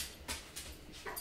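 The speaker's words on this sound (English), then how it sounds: "My dog's going crazy." A dog whimpers in faint, brief high whines, a few short cries over quiet background hum in an indoor room with music gear.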